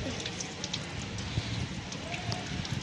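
Steady rain pours down with a dense, even hiss and scattered drops pattering on a nearby surface.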